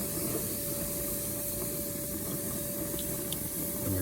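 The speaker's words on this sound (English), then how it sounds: "to kind of just grease up where I'm gonna put my steaks down" Grease hissing and sizzling on a hot grill as it is rubbed over the grates before steaks go down: a steady, moderately quiet spray-like hiss with a faint constant hum underneath, no talk.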